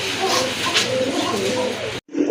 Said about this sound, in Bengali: এক জোড়া রাজগোল্লা কবুতর টকটকে লাল